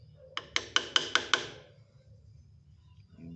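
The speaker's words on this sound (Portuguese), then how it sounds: "Ajuda esse martelinho" A small hammer taps six times in quick, evenly spaced metallic strikes while the cutter set of a harvester is adjusted, close and sharp, followed by quiet.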